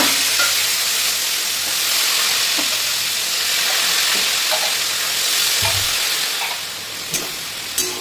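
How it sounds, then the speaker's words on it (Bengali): Onions dropped into hot oil for a mutton curry with whole spices sizzle loudly and steadily up close, with occasional stirring clicks. "এবার আমি পেঁয়াজটা তেলে দিয়ে দিলাম।"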